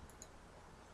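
A single soft computer mouse click lands right at the end, short and close, after near-silence with only faint room hiss.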